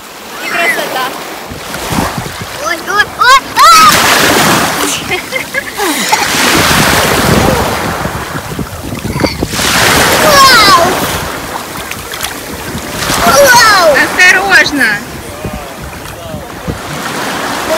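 Sea waves break on a shore about 20 km beyond Odessa, surging loud and close every few seconds amid strong wind buffeting the microphone.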